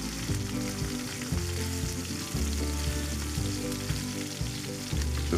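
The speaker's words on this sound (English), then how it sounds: "just focusing on getting a good sear on all four sides" Beef short ribs sear in a hot pan with a loud, continuous close sizzle. A repeating low rumble pulses under the hiss for the whole stretch.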